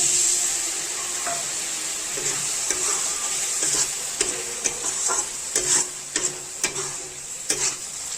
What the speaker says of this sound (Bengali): দেখতে পাচ্ছেন আমার মশলাটা এখন ভাজা হয়ে গেছে।